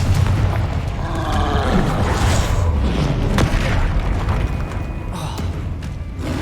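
A booming Confringo fire-blast spell cast in the Hogwarts Legacy game, a loud close explosive thump with rumbling low-end and scattered crackling debris afterward, amid other game sound effects.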